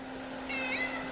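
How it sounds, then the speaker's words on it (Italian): A domestic cat meows in a drawn-out, wavering call indoors, close and clear over a steady low hum, appearing in the second half. "Gatto."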